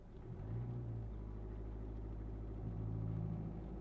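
A car engine idling steadily during a driving lesson after a restart with key and clutch, a low continuous rumble with slight rises in revs, close and alone.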